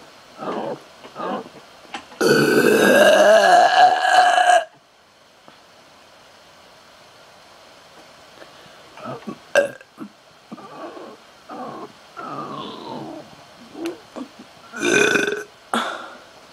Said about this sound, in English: I'm gonna try to do the biggest burp ever.